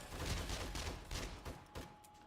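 Rapid bursts of automated turret gunfire shooting at vultures at night in the 7 Days to Die game, a dense fusillade of overlapping shots at moderate distance, fairly quiet and continuous; no talking.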